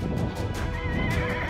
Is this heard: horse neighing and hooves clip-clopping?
yes